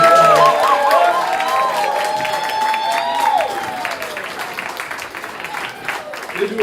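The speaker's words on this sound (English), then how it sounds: "we hear a round of applause for Pam" Restaurant audience at a steelband performance breaks into a round of applause and cheering, loud at first and slowly tapering off, with scattered claps and voices continuing near the end.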